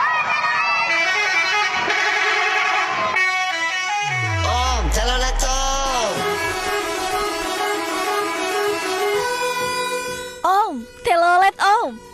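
Musical multi-tone bus horns of the 'telolet' kind blare loud and close in northern Java, sounding long melodic blasts with a falling tone sweep, then a series of short, wavering honks near the end.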